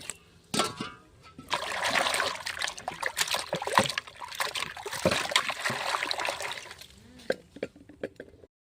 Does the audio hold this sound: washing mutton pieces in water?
yes